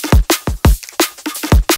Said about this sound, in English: the main drum sound is like this